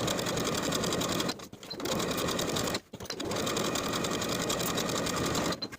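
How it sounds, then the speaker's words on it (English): A sewing machine stitches along the binding of a flowing summer dress, running loud and close in three long bursts with two brief pauses between them. "Stitch in the ditch from the front or edge stitch along the edge of the binding"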